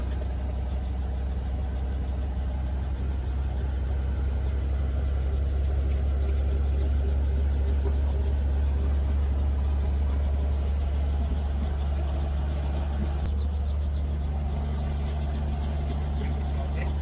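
A helicopter engine runs at low RPM, a steady, loud low-pitched drone with constant rumble throughout and a slight shift near the end.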